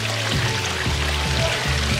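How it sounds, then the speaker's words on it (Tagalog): Near a Buddha statue at Crystal Castle, a mountain garden in Australia, water pours and flows continuously close by, a steady splashing wash with a soft rhythmic pulse and nothing else over it. "Diba? Yung tunog ng tubig niya."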